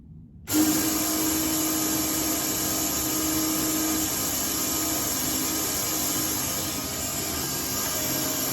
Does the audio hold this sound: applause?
no